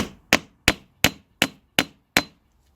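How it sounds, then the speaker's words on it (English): Six sharp, evenly spaced rawhide mallet strikes on a metal anvil with a short ringing decay, loud and close, no voices. "Thing I want to do is to hammer it, so I've got a few different surfaces to try"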